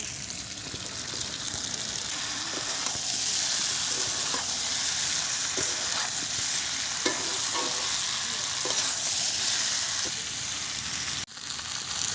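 Curry with added sugar and fried papaya sizzles loudly in a pan, a dense continuous hiss with faint scraping stir strokes throughout, briefly dipping near the end.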